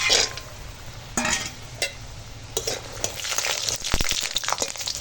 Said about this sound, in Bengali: চলো বড়িটা আগে ভেজে নেব তেল গরম হয়ে গেছে